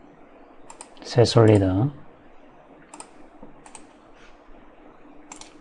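A computer mouse clicks while a 3D drawing is built in CAD software. Several light, sharp clicks are spaced out across the clip, and a voice speaks briefly near the start.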